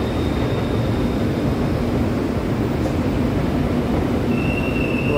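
A loud, continuous rumble of an elevated BTS Sukhumvit line train rolling past nearby at Siam, Bangkok, on a Sunday evening, with a faint high squeal of wheels toward the end.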